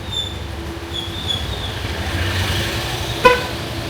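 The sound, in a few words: car horn honking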